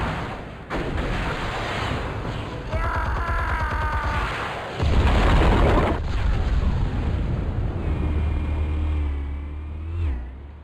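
Explosives detonating in Batman: The Telltale Series, heavy booming blasts and deep rumbling that swell and roll on under a dense game soundscape, with tonal effects sweeping through near the end; no speech.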